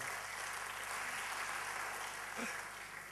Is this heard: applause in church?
yes